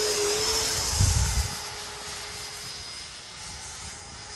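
A Freewing F-18 RC jet with a 90mm electric ducted fan flies past outdoors, giving a steady loud whooshing whine with a high tonal hum and a brief low rumble early on.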